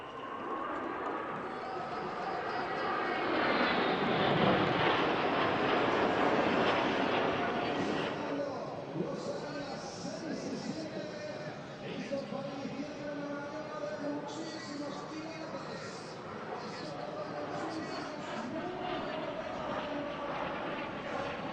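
Military aerobatic team aircraft flying a display at the International Ayr Show air show, an engine roar that swells loud and then fades into a softer, distant drone under a continuous announcer's commentary.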